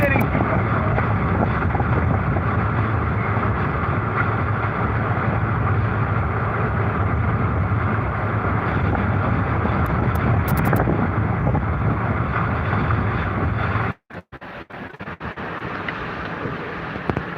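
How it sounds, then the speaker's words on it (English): Strong Hurricane Ida wind, gusting to 100 to 125 miles an hour, roars continuously in heavy gusts buffeting the microphone, then cuts out abruptly before returning in choppy bursts. "Wind still gusting to 100 to 125 miles an hour."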